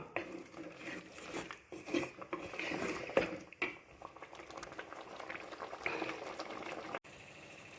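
Curry leaves and brinjal sautéing in a pan, a steady close sizzle and bubbling hiss with occasional spatters and a brief stir, continuing without a break apart from a short dip near the end.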